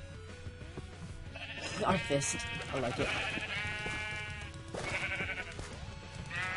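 A sheep in the Minecraft Crazy Craft modpack gives several wavering, nasal bleats at moderate volume, partly under someone talking over game background noise.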